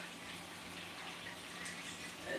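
Liquid being poured into a glass during home dinner cooking, a faint, steady trickling splash that rises slightly at the end.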